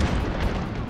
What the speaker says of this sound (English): They're all exploding.